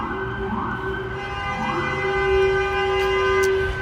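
A police car siren wails in rising and falling sweeps on a busy Brooklyn city street on a Friday night, loud and close over steady traffic rumble as cars pull over for it.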